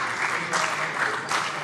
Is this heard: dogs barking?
no